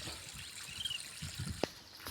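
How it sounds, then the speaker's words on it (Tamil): Water trickling onto the base of a young coconut tree on a farm plot, a faint soft gurgling dribble with small irregular splashes close by and no talking. "ஸோ இதுக்கும் தண்ணி போயிட்டுருக்குது"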